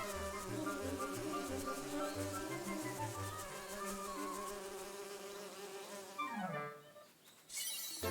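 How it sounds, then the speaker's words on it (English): Bees buzz steadily in The Legend of Zelda: Link's Awakening, a game soundtrack of droning insect tones with a stepped melody, holding loud for about six seconds before trailing off in a falling sweep, then a bright chime. "he gets chased away by the bees."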